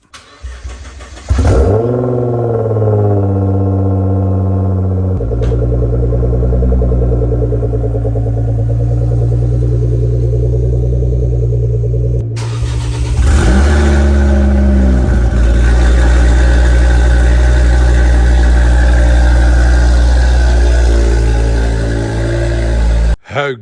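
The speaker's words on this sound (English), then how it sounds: "I'll let you guys listen to a cold start on the GTR" Nissan GT-R engine cold-starting with a crank and rev flare, settling into a steady loud idle, then a second start with another rise before idling again.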